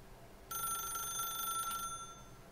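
A telephone rings in The Stanley Parable with a bright, continuous electric bell trill. It lasts about a second and a half and is heard alone, clear and close, before cutting off abruptly.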